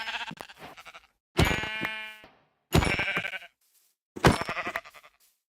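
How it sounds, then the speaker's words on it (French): Sheep in the Minecraft video game bleat in three separate calls, each a loud, close, wavering cry with silent gaps between them. "j'ai trouvé des moutons, donc je les ai tués pour me faire un lit et avoir un peu de nourriture"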